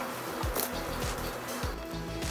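Steady, close buzzing of a bee swarm during a transfer into a full-size hive, a dense droning hum with wavering pitch and faint background knocks.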